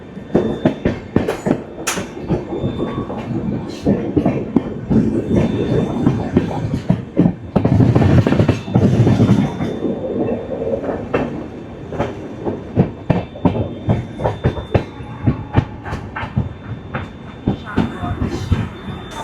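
Darjeeling Mail passenger train running on rails, with a rhythmic clickety-clack of wheels over joints, loud and close from inside, plus a swelling rush midway and faint voices now and then.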